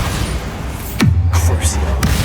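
Bombarda explosion spell cast in Hogwarts Legacy: a sharp crack followed by a deep, falling boom that rings on, then another short hit, loud over game noise with a voice speaking.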